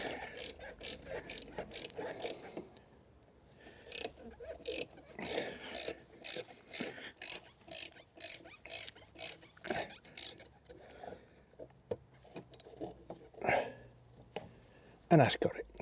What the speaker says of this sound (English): Now, I'm going to do up the clamp again.